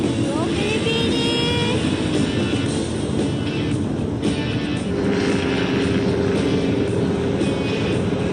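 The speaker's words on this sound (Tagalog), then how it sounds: "Si Nico, solo flight muna sa ultralight plane ride" An ultralight plane flies overhead with a steady, buzzing propeller engine drone that holds at a fairly even level throughout, mixed with faint background chatter.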